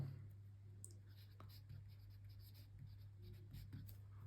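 A Kaweco Student fountain pen with a fine nib writes on paper, giving faint, close scratching strokes in short bursts over a quiet room hum, with no talking.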